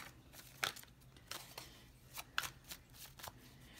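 A deck of oracle cards is riffled and shuffled in several quick papery bursts, close and fairly quiet, with no voices.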